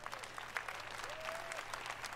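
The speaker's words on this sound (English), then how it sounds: "Let's give them all a round of applause." Steady applause from a live audience at the EA Play 2018 presentation, clapping sustained at a moderate level throughout with a faint crowd murmur underneath.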